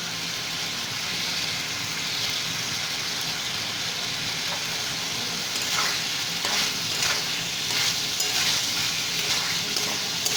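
Papaya that has been cooked until soft, now mixed with a little sugar, is stirred in a pan over a steady sizzle, with scraping strokes coming and going throughout and no talking.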